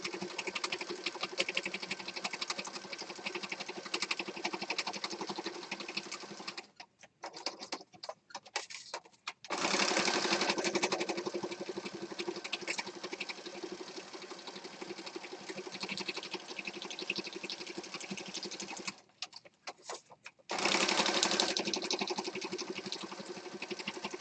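Sewing machine stitching lace onto a base card, a steady loud rapid whirring run with two short pauses mid-stitch before it resumes.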